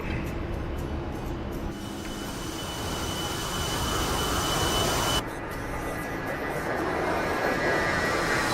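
Steady, loud cabin drone of a light airplane engine in flight just after gear and flaps are retracted during a night flight, an unbroken roar that holds level throughout.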